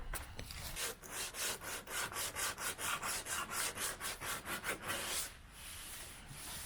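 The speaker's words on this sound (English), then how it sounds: "so I'll just take a piece of sandpaper now" Car body filler being sanded by hand with sandpaper during a rattle-can DIY paint job, a steady run of about twenty rhythmic back-and-forth rasping strokes, close and fairly loud, ending in a quieter pause.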